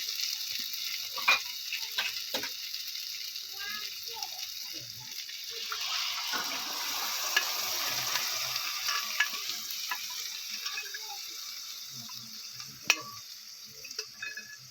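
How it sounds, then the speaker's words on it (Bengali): Chicken ghugni masala is stirred in a frying pan, with a steady crackling sizzle and scattered scraping and clinking strokes of the spoon, close and fairly quiet, one sharper knock near the end. "দিয়ে একসাথে ভালো করে মিশিয়ে নিচ্ছি"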